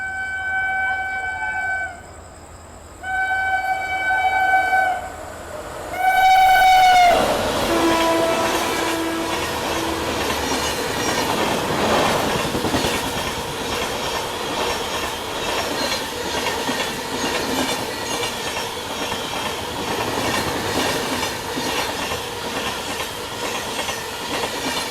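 The Sampoorna Kranti Express rushes past on Indian rails: a loud, repeated multi-tone diesel horn sounds first, then a steady, close roar of wagons rattling by with clickety-clack and occasional wheel squeal, lasting the rest of the clip.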